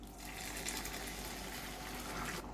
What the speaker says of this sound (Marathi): त्यामध्ये आपण गरम पाणी ओतणार आहे.